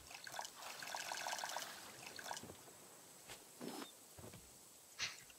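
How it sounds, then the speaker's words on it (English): Water trickling and filling in the video game Stranded Deep, a faint, soft splashing stream at first, then scattered drips and small splashes. "maybe the water filling sound isn't global, but it just is for me because I'm the host"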